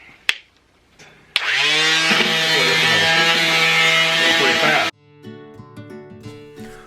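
A power sander runs on an antique wooden desk chair, a loud, steady whining drone lasting several seconds after a few knocks, then cutting off as a fainter motor hum carries on.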